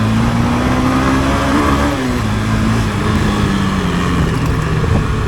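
Honda CB300F 300cc oil-cooled single-cylinder motorcycle engine pulling hard under acceleration, a steady loud drone whose pitch climbs and settles, continuous throughout with no speech.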